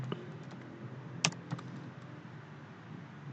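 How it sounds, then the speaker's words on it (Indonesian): Keystrokes on a computer keyboard, a handful of light irregular clicks with one sharper tap near the middle, close and clear over a quiet room hum, with no talking. "kemudian mengetik sebagai berikut"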